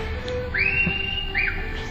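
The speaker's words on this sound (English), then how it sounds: "where's the whistling coming from?" A person whistles a sustained tune in an old western film scene, two drawn-out rising notes over steady background hiss.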